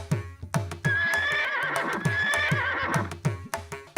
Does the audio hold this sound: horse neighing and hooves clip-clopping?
yes